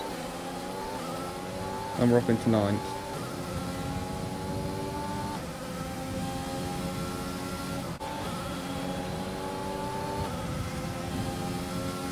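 An F1 race car in the F1 2020 video game screams through its revs, with rapid upshifts, brief bursts of racing around a rival, and a commentator talking over the continuous engine howl.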